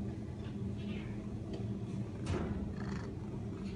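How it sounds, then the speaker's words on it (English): A friendly shelter cat purrs softly and continuously up close, a low rumbling drone with faint handling noises and no talk over it. "can you hear him purr?"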